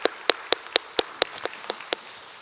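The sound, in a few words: congregation applauding in church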